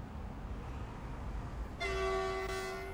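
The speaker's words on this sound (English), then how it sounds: "It's the exact same horn as the last train." An ICE train horn sounds in Train Sim World, a loud sustained blast that cuts in suddenly over the low rumble of the moving train and holds for about a second.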